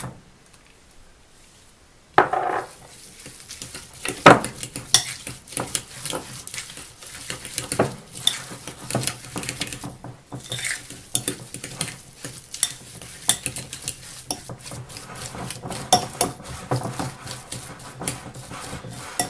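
Deviled egg filling beaten with jalapeno peppers in a bowl, a steady run of scraping, mashing and stirring strokes, close and fairly loud, with no voice.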